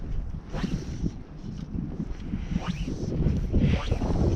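Strong, gusty wind buffets the microphone beside a trout lake on a very windy day, with low rumbling roar that swells and surges, rising louder toward the end, and no talking.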